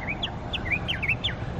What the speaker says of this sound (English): there's this really sweet bird that's saying hello to me up here